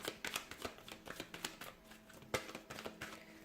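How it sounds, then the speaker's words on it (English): Tarot cards are shuffled by hand at close range, producing rapid crisp riffling and flicking bursts with quick irregular taps, quiet and with no talking. "let's go ahead and give the cards a shuffle here"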